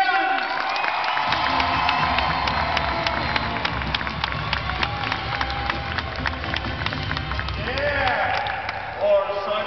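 Basketball fans at a Pacers arena event cheer and clap, with a broad crowd roar and scattered claps swelling under an amplified announcer voice and music-like tones throughout.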